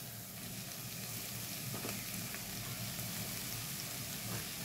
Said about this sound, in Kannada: ಇವಾಗ ಸೊಪ್ಪು ಸೇರಿಸ್ಕೊಂಡು ಬೇಯಿಸ್ತೇನೆ.